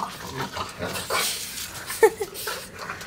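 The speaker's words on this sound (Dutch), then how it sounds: "En daar is nog een hond bij de buren." A neighbours' dog close by makes faint whimpering and snuffling noises, with a short yelp or whine partway through, amid quiet background sounds.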